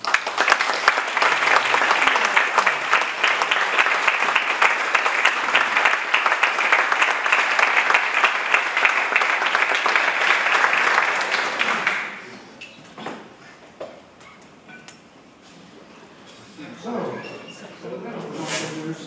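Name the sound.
audience applause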